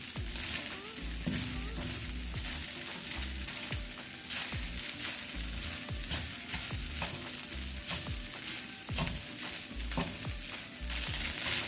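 Shrimp fried rice stirred in a hot pan, a continuous sizzle and fry with repeated scraping stir strokes throughout, close and fairly loud.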